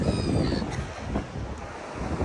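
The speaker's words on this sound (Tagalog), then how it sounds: "Grabe, ang dami ng ibon dito" Crows cawing at Manly Beach in Sydney, with several faint calls scattered over steady wind buffeting and the rumble of surf.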